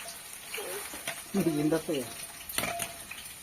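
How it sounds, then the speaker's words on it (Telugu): Sliced onions and green chillies hit hot oil and fry with a steady sizzle, heard under a person talking. "ఇప్పుడైతే ఇగో ఉల్లిపాయలు పచ్చిమిరపకాయలు అయితే వేసేస్తున్నాను"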